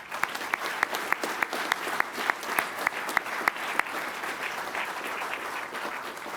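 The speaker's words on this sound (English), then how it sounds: "would you join me in a round of applause for all of our instructor pilots?" Audience at an Air Force undergraduate pilot training graduation applauding its instructor pilots: a full room of steady clapping with a few sharp, louder claps standing out early on, slowly easing off toward the end.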